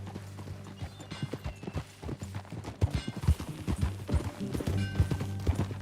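Horse hooves clip-clop in a steady walking rhythm in Red Dead Redemption 2, close and fairly loud, with a low hum underneath and no talking.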